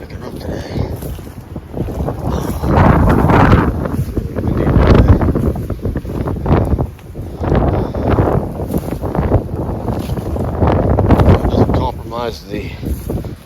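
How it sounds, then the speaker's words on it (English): Strong wind gusts outdoors buffet the microphone in waves of low rumbling roar, rising and easing continuously throughout. "Wind is really picking up today."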